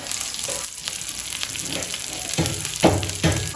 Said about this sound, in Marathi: एकदम कांदा भाजून घ्यायचा आहे बघा तवा झालेला आहे गरम